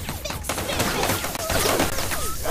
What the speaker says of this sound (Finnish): Jotain ammutaan jossain.